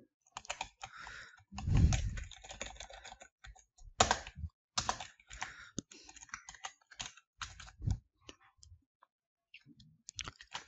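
HTML code typed on a computer keyboard, heard as close, irregular bursts of key clicks with several heavier thumps and brief pauses between runs, with no one speaking.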